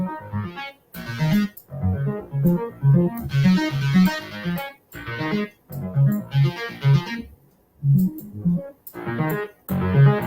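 A synthesizer part from Serum plays in short, rhythmic harmonic bursts separated by brief gaps, fairly loud and alone in the mix.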